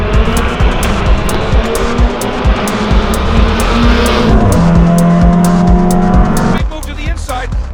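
Several race cars roar off together at the green flag at Lime Rock Park, Pirelli World Challenge, engines loud and close, with a brief tire screech and an announcer talking over the din.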